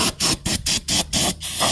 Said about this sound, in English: I'm gonna clean up the area with some brake clean